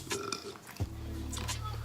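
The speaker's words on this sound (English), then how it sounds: "Burp it all out, ho. Burp it out." A single loud, drawn-out burp from close to the microphone during a mukbang meal of wings, fries and a Philly, with a brief bit of talk and noise before it.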